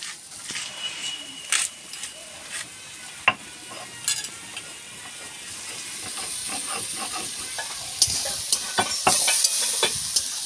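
Peeled orange segments sizzle and fry with tomato in a pan for orange chutney, with a steady hiss underneath and irregular sharp scrapes and clacks of a spoon stirring, some close and loud.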